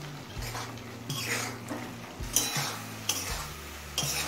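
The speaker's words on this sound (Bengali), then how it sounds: "এবার গ্যাসের ফ্লেমটা হাইতে রেখে নাড়তে নাড়তে মূলো শাকের জলটা শুকিয়ে নেব" Radish greens are stirred in a pan over a high flame: a soft, steady sizzle runs under repeated spatula scrapes and clinks against the pan, coming every second or so.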